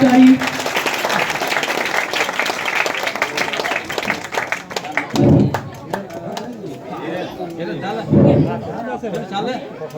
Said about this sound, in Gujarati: જોરદાર તાળી.